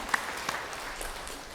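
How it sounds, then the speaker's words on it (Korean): A church congregation gives a short round of steady, moderately loud clapping that fills the room, with no voices standing out above it. "박수로 하나님께 드리겠습니다."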